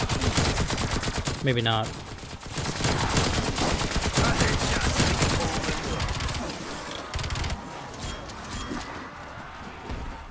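Nailgun in a round-based shooter game firing rapidly, a dense stream of clicking shots running continuously near and loud, thinning toward the end, with someone talking briefly over it.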